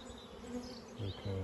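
Honeybees buzz close by during an apiary hive inspection. The drone is steady and dense, and a few louder, lower passes stand out as single bees fly near.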